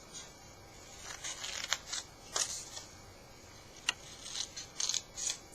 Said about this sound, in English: we're going to cut the exact same marks